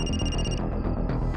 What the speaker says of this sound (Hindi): ठाकुर साहब का फोन आ गया